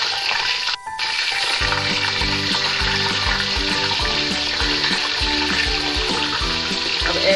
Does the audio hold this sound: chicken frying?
yes